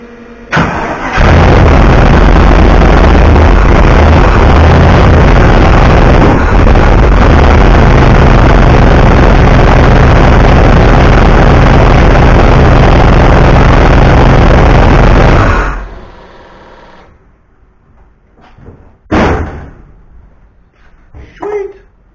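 Engine starting up after ignition and fuel are switched on, cranking into a loud sustained roar that runs steadily for about fifteen seconds, then cuts off to quiet, with a couple of brief bumps afterward.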